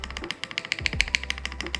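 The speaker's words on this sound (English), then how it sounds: "deep, clean sound of a spacebar that I love" A budget mechanical keyboard's spacebar pressed over and over in a quick, even rhythm, each close, crisp click carrying a deep, clean thud.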